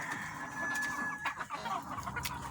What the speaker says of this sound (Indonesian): lihat ayam itu semua berkumpul ya guys.